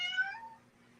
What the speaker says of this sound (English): Who's got a cat? My cat says hello.